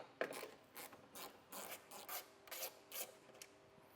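Torx screws and 7mm bolts come off a 2014 GMC Acadia during a base plate installation, heard as a close series of short, rhythmic ratcheting and scraping strokes, quiet and without talk.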